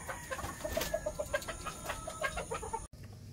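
Young two-month-old Raptor gamefowl chickens clucking in a simple breeding pen, a steady run of short, close clucks with a few louder calls, ending in a brief dropout.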